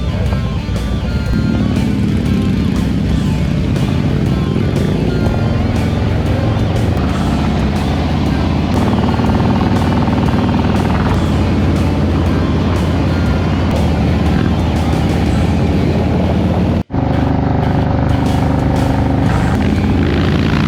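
Steady loud drone of a Carbon ST bagger motorcycle with a Feuling W3 150 cubic-inch three-cylinder engine while riding, continuous engine and wind roar close to the rider with slight shifts in pitch and a brief dropout near the end.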